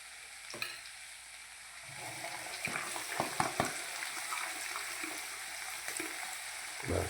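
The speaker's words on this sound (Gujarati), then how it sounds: "હવે ડુંગળી નાખી દો." Chopped onion dropped into a hot pan that already holds garlic paste, sizzling and frying steadily, with a few sharp stirring clatters of a utensil against the pan partway through.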